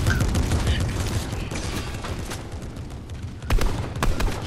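Tank gunfire in a multiplayer video game, with a rapid burst of shots and mechanical clatter and then heavier booming blasts near the end, all loud and close, over a busy game soundscape.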